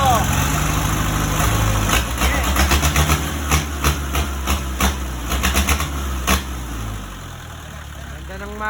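An old-model Mitsubishi 4D30 diesel engine idles loud and close with a low rumbling chug, joined by sharp intermittent knocks and clatters, then settles into a steadier drone.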